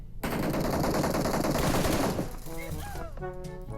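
Rapid automatic gunfire in the mobile battle royale game PUBG Mobile, a dense loud burst lasting about two seconds, followed by a short electronic game sound and beeping tones.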